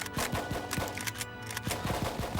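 Suppressing gunfire in the squad tactics video game Full Spectrum Warrior: rapid, repeated automatic-weapon bursts with low thumps over a steady game soundscape.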